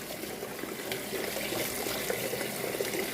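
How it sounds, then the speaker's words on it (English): Kale leaves rinsed under a running tap, a steady close trickle and splash of water with no talking. "So this is my last rinse and wash for this kale."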